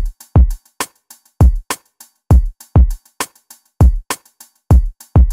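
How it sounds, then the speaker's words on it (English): Programmed afrobeat/dancehall drum pattern made in FL Studio, with punchy kicks and sharp percussive hits in a tight, repeating rhythm, loud and alone with no voices. "And then just added a kick."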